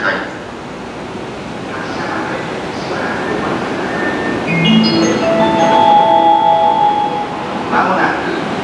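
A station announcement chime and amplified voice play over the rumble of a JR E231-800 series train pulling in along the platform at Mitaka Station on the Chuo Rapid Line.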